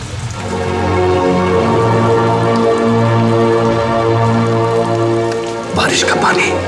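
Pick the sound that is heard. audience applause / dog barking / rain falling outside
rain falling outside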